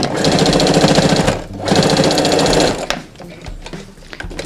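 An electric sewing machine stitches a seam attaching elastic to fabric. Two loud, close, rapid rattling bursts of about a second and a half each are separated by a short pause, followed by quieter handling noises.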